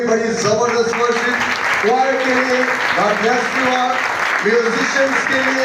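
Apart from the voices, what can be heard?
audience applause at a prayer festival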